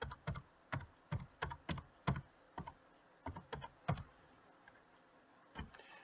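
A password is typed on a computer keyboard in a quiet room: a string of soft, close keystroke clicks in irregular bursts, with short pauses between clusters.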